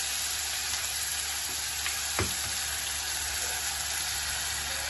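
Curry leaves and a ground spice paste sizzle in hot oil with a close, steady crackling hiss that holds throughout, broken by a brief stirring clatter near the middle.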